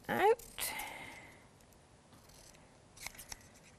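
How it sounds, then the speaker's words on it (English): Very large scissors snipping through a paper label while crafting, giving a crisp close cut near the start and a few lighter snips toward the end, with quiet room tone between. "I use these ginormous scissors for pretty much everything, even my fussy cutting"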